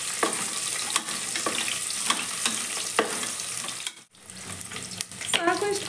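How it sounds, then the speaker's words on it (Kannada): Thinly sliced onion frying in hot oil in a cooker: a continuous close sizzle with periodic stirring knocks, a brief dip near the end, then a fresh burst of hiss and clatter. "ಈರುಳ್ಳಿ ಹಾಕೋತಾ ಇದೀನಿ ನನಗೆ 1 ಈರುಳ್ಳಿ ತಗೊಂಡಿದ್ದೀನಿ ತೆಳ್ಳಗೆ ಹೆಚ್ಚಿ ಇಟ್ಕೊಂಡಿದ್ದೀನಿ ಸ್ವಲ್ಪ ಫ್ರೈ ಮಾಡ್ಕೋಬೇಕು"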